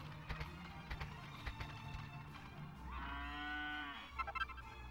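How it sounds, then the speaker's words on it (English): Another cow in Dragon Quest VIII gives a single sustained moo partway through, rising clearly above soft game ambience with a few light taps around it. "Another cow?"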